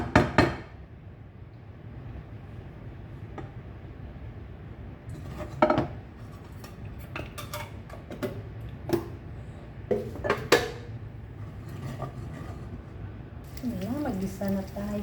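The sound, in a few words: sautéing chicken heart with lemongrass, ginger, garlic and onion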